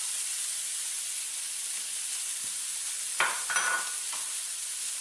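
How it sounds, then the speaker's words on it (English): Red peppers hit a hot skillet for a shrimp burrito bowl, a steady background hiss of frying swelling into a few brief, louder sizzling bursts near the end, with no talking. "we're going to add our red peppers"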